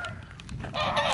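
A big hen clucks near a hen house, a short run of rough clucks that swells louder toward the end, close by.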